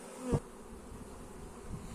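Steady buzzing hum of honeybees around a hive during queen rearing runs through, with a brief louder thump near the start, fairly close.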